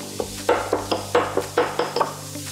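Shallots and lots of garlic hitting a hot pasta pan, a steady sizzle under a quick run of rhythmic scraping stirs against the pan, close and fairly soft.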